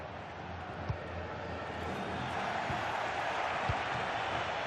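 Steady roar of a football stadium crowd in FC26 during a Real Madrid La Liga match, a broad continuous wash of noise with a few soft thumps, moderately loud and swelling slightly.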